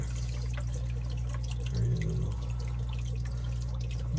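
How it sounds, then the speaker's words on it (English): Homemade intake filter pushed under running tap water to soak, a steady rushing flow with faint splashes and drips over a low hum. "you wanna push it underneath the water so you can get it soaked"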